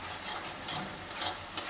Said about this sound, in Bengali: এখন সুন্দর করে মশলাটা কষিয়ে নেব।